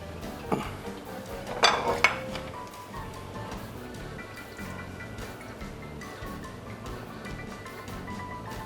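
A fluffy, crispy deep-fried omelette is lifted out of hot oil in a pan with metal utensils, with a few sharp clinks and scrapes early on before a faint, quiet sizzle continues alone.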